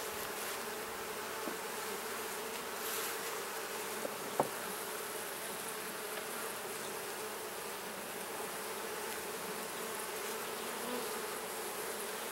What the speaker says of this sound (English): I want to get all the bees off that comb so that I don't squish them when I remove the comb